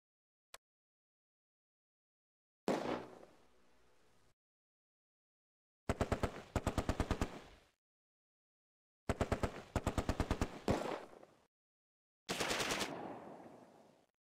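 Bursts of machine gun fire in the Close Combat war game during a massive assault on Arnhem West: a lone crack, then four loud rattling volleys of rapid shots separated by short pauses, with no voices.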